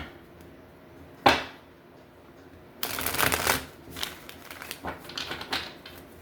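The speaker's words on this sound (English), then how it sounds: "Let's shuffle." A deck of tarot cards is shuffled close to the microphone: one sharp snap, then a longer riffle burst and a run of softer, quicker shuffling flutters, with no talking.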